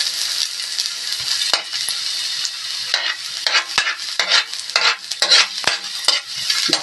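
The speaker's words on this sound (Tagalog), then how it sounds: "Isahin natin ang ginger or loya sa mantika." Ginger sizzles steadily in hot cooking oil while a utensil stirs it, with sharp scraping clicks against the pan repeating every second or so, close and fairly loud.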